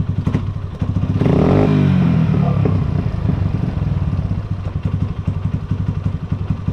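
A 2022 Yamaha Factor motorcycle engine revs up close, a loud rising surge of engine roar over steady idling clatter that then settles back to a rough, pulsing idle.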